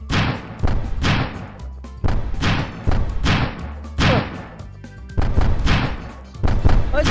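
Bombs thudding in the game Stumble Guys: loud, heavy booms land roughly once a second in a steady run, each one decaying briefly before the next.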